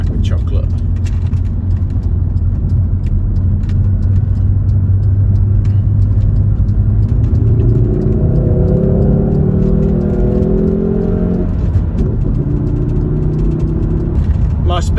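A Volvo car with nearly 160,000 miles on it drives around a roundabout, its engine a steady low rumble inside the cabin, the pitch rising midway as it accelerates, with a voice talking over it.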